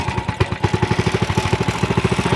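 Small 100cc mini bike engine running steadily just after a pull start, choked, with a rapid even chugging pulse, loud and close, no talk over it.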